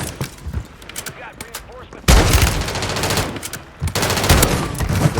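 Automatic gunfire in Call of Duty: MW3, bursts of rapid shots that swell into a loud, dense volley partway through, with some speech mixed in.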